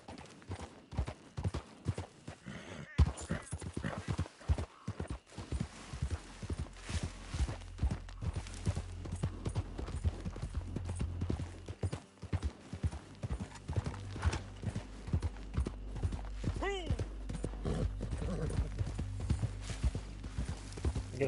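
Horse hooves clip-clopping in the Red Dead Redemption 2 online game, a steady rhythmic walk running throughout with an occasional whinny, plus a low engine-like drone and music in the background.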